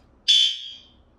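A single shrill fire alarm tone sounds abruptly during fire sprinkler flow switch testing, holds for a moment, then fades away with no one speaking.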